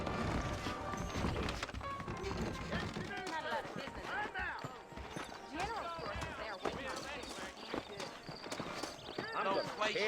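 Horse hooves clip-clop steadily through a Red Dead Redemption game scene as the horses set off, a continuous rhythmic patter running beneath constant talking voices.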